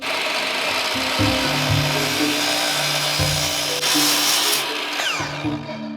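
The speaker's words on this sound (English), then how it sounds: "We're about to cut our first piece of aluminum extrusion ever in our lives." A saw fitted with an 80-tooth blade cuts through aluminum extrusion for a van build, a loud, steady grinding and rasping whine that runs without a break for about six seconds, changing pitch slightly as the blade works through the metal.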